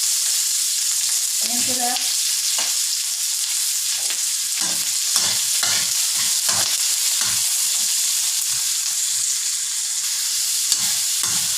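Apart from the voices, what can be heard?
garlic frying and being stirred in a pan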